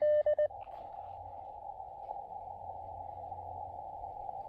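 An Elecraft KX2 radio sends a short burst of Morse code CW tones in quick dits and dahs at 10 watts on 17 meters, then a steady band hiss and hum continues alone.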